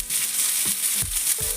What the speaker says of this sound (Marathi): आता गुलाबी होईपर्यंत असा छानसा फ्राय करून घ्यायचा आहे आपल्याला मसाला.